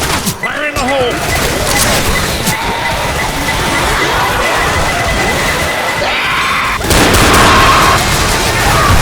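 A thrown grenade goes off in Left 4 Dead, part of a loud, busy battle soundscape of gunfire and blasts, with a sharp burst near the start and a heavier surge late on, under game voices.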